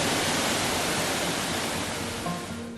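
Waterfall in Mount Buffalo National Park, Victoria, in winter, pouring into a shallow pool at its base: a steady, loud, broadband rush of falling water, close by and continuous, with no voices.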